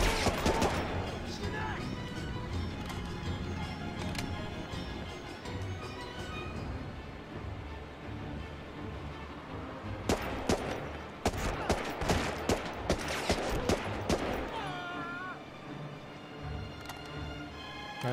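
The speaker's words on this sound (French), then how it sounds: "Mec, je te tire dessus" Rapid gunfire from the Medal of Honor video game, level Soleil Levant, with bursts crackling continuously under ongoing talk and a denser volley in the second half.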